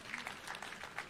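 Brief clapping from a church congregation at a Catholic Diocese of Wote service, greeting a group of county chief officers; scattered hands at moderate level with faint murmur, no talk over it.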